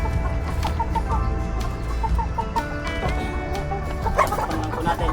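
Chickens cluck in a busy, continuous chorus of short repeated calls, with a dog-like bark and other farmyard noise mixed in.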